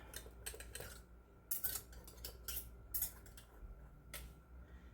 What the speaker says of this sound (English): Then I come in and debubble, and I'm just using a knife.